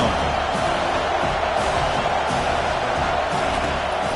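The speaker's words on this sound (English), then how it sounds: "the crowd coming to life here, trying to help this defense down in the red zone" A home crowd roars at an ACC college football game, a steady, loud wash of cheering from a packed stadium that holds level throughout.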